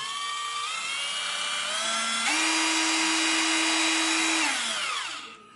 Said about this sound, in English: you can now press this and now use the drill.